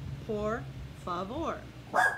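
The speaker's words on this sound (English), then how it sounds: "Excuse my dog." A dog lets out a few short, whiny yips and barks nearby, spaced out over two seconds, with a person speaking briefly alongside.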